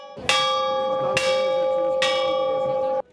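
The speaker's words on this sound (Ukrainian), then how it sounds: "почали дзвонити у церковні дзвони" Church bells ring out loud and close, three strong clangs at roughly even intervals, each leaving a long shimmering hum that carries straight into the next strike, with no voices heard.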